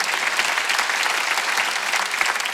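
A church congregation at a Wednesday worship service claps together in loud, dense applause that holds steady throughout.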